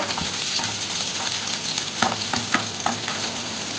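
Chopped onion pieces fry in hot oil for a bottle gourd masala curry, giving a constant crackling sizzle with a few sharp clinks and scrapes of a spoon stirring the pan.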